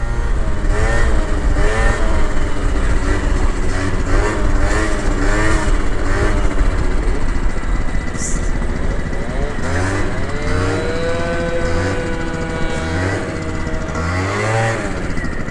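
Scooter engines rev and whine on a desert path, loud and close, pitch climbing and dropping repeatedly over about fifteen seconds with a steady mechanical drone beneath.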